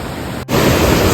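Fast-flowing mountain river water rushes loudly and steadily at close range, a broad continuous roar with a momentary dip before it swells again.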